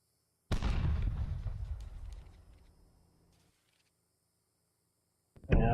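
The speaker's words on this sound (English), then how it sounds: "Probably airstrike coming in." A single heavy airstrike explosion in Steel Beasts Pro PE booms loudly and rumbles away over a few seconds into silence, followed by the onset of another blast at the end.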